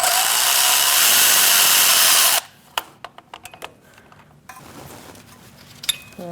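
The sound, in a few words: removing ground strap bolt with 13mm socket and extension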